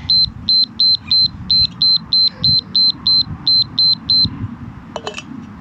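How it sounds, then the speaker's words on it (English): A workout interval timer gives a long run of about fourteen evenly spaced, loud high beeps over a muffled, breezy outdoor background, then falls quiet apart from a few faint clicks. "That was a long beeper."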